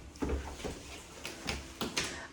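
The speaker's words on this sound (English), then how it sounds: "the door wants to slide open" A sliding bathroom door in a Southern California house, giving several faint scraping knocks and bumps at uneven intervals as it shifts in its track, then a short sharp sound at the end.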